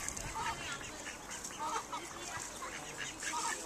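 Ducks and geese honk and quack on a pond in repeated bursts, fairly faint with outdoor background noise.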